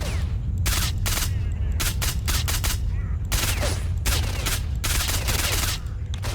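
Rapid bursts of gunfire in the video game S.T.A.L.K.E.R. Shadow of Chornobyl Enhanced Edition, loud and dense, with volleys of shots firing in clusters over a steady background rumble for several seconds.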